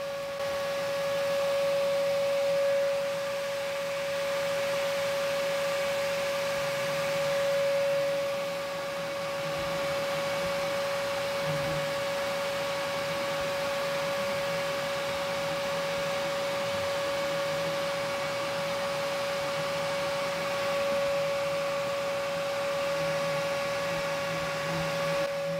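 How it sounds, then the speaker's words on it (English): A vacuum runs steadily the whole time during yellow jacket nest removal, a constant droning whine with a low rumble beneath it and no pauses. "I just took the vacuum and just like pierced a hole on that left-hand side."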